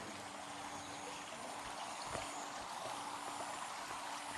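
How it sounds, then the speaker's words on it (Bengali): At a resort, water runs steadily through a filter, a constant rushing, gurgling flow that fills the whole clip at an even level with no voices. "জল চলছে, ফিল্টার হচ্ছে,"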